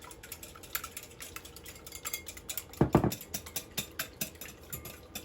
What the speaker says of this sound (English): So I am whisking those up.